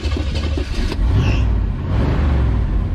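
A motor home with a rebuilt engine and a carburetor needing work, after sitting for a couple of years, rumbles and revs close by with a steady, rough, loud drone.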